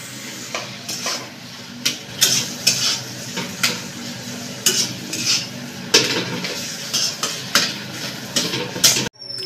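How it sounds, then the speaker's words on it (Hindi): Potato pieces fried in a pan for aloo paratha filling, with loud rhythmic scraping of a metal spoon over a hissing sizzle, ending abruptly. "ये आलू डालेंगे इसमें"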